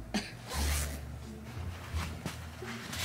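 A zipper on a new baby car seat being worked by hand gives a few short, close rasps amid soft rustling and handling noise.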